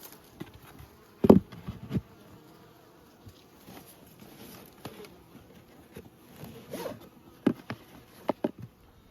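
Bees at a hive at Nymboida buzz faintly and steadily, broken by sporadic close knocks and rustles from hive handling, with a louder clatter early on.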